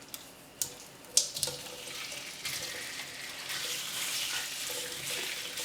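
Shrimp frying in olive oil, a quiet steady sizzle rising after a few sharp clacks and clinks of utensils or pan, close and without talk.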